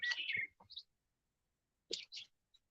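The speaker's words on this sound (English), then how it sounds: "he loves hearing all the birds singing in the background" Faint birdsong drifts in from a distance outdoors, a few brief chirps and clicks at the start and again near the end, separated by near silence.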